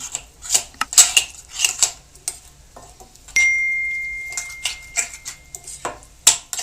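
A spoon mixes ground spices, including crushed black pepper, in a bowl for murgh musallam, making a series of bright, close metallic clinks and scrapes in irregular bursts, with no talking.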